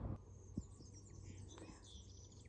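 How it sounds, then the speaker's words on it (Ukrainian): Faint birdsong drifts in from a distance, high thin chirps and twitters over quiet outdoor ambience, with a soft thump near the start. "Пташки співають"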